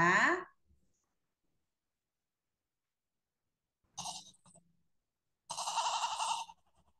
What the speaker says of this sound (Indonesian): Itu adalah suara kambing atau domba.